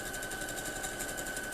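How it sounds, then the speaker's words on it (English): A sewing machine stitches steadily while fabric strips are joined into a spiral log cabin quilt block, giving a fast, even mechanical whir with a faint steady whine, close and continuous, with no talking. "I'm just going to keep sewing these on so that you can see how the spiral appears"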